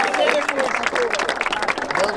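Crowd cheering and clapping at a Brazilian freestyle rap battle, loud and dense throughout, with shouting voices and crowd noise mixed in.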